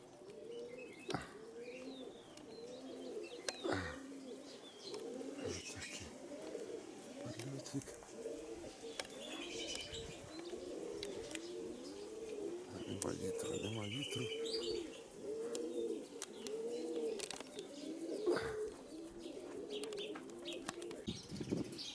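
Young pigeons coo in a steady, repeated rolling rhythm close at hand, joined by occasional sharp clicks and brief flutters.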